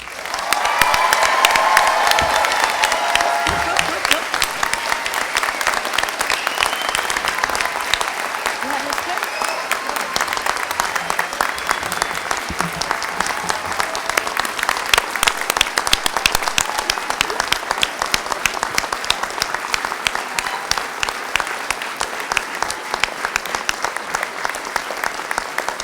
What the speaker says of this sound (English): That is a great round of applause and well-deserved.